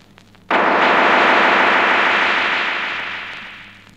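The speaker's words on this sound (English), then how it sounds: "Now echo by means of magnetic tape feedback." Echo produced by magnetic tape feedback pushed to excessive levels, heard as a sudden loud broadband burst that swells and sustains, then slowly decays over several seconds, alone without voices.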